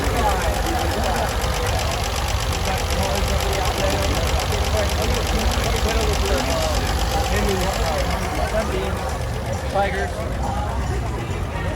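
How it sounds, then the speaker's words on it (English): The engine of a classic British car runs steadily at an outdoor car show with an even idle and light knocking throughout. A person talks over it nearby. "Got the engine running here."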